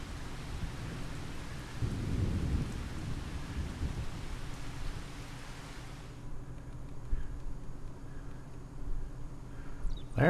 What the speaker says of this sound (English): See if we can get past this rain.